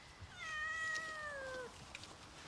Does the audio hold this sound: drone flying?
no